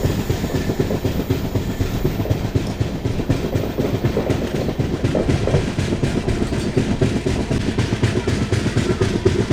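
The 15777 Alipurduar Tourist Express runs through the Dooars forest, its carriages rumbling loudly with steady clickety-clack of wheels over rail joints, heard from on board, continuous and unbroken with no speech.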